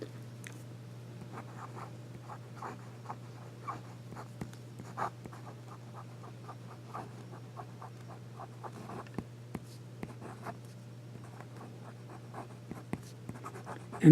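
A Pilot Vanishing Point fountain pen with a medium 18K gold nib scratching across paper in quick, faint strokes and taps, close and quiet over a low steady hum.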